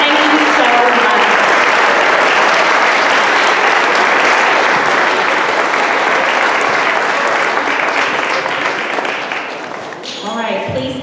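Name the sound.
audience applause at Veterans Day ceremony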